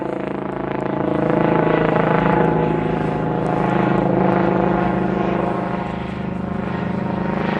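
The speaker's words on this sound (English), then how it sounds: "How rude, the helicopter's over." A helicopter flies overhead, a loud, continuous rotor and engine drone that swells and eases slightly over several seconds, heard alone without talking.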